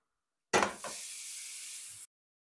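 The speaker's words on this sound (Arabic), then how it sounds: "يبقى أول شيء عندنا راح أنزل اللحم" Meat dropped into a hot pan for a potato and vegetable tray bake gives a loud sizzling burst that settles into a steady, even hiss of frying, close and without talk, for about a second and a half.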